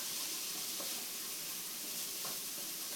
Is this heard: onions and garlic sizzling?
yes